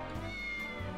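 A cat gives a brief meow in the tactics game Triangle Strategy, a single short call set against continuous background music.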